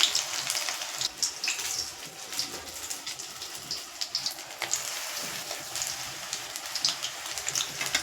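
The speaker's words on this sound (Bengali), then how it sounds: "আবারও বেসনে কোট করব। এই যে তেলের মধ্যে দিয়ে দেব।" Besan-coated capsicum chilli pakoras fry in hot oil, a steady bubbling sizzle dotted with sharp crackles and pops, close and moderately loud, with no one speaking.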